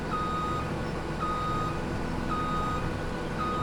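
Steady reversing beeps sound at an even rhythm from a truck backing up with an articulated trailer in Farming Simulator 2017, over a constant low engine drone.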